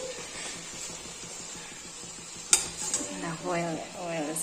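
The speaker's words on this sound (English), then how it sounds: "I'm going to fry them in the oil." Puri frying in very hot oil, a steady close sizzle with a sharp clatter partway through, followed by scraping and stirring noises from a pan.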